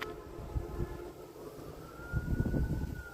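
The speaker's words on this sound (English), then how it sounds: "I hear sirens again." Emergency vehicle sirens wail far off, a faint rising and falling tone drifting over low rumbling background noise outdoors at a cemetery.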